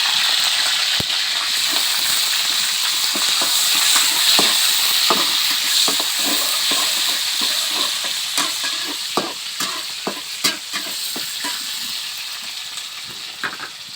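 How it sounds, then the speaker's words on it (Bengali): Chopped onion and green chili sizzle steadily in hot oil in a pan, with repeated sharp scrapes and clinks of stirring cutting through the continuous frying hiss. "তেল গরম হতেছে, একটু পেঁয়াজ কুচি, কাঁচামরিচ"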